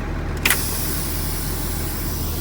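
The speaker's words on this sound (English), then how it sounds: "First, I'll release my trailer brake" A truck's trailer air brake releases in a short, sharp hiss of air inside the cab, set against a steady idling diesel engine drone.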